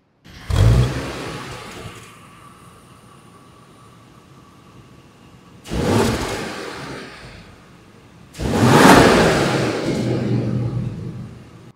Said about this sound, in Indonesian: Dan bicara soal mesin, kita dengar suaranya kayak gimana.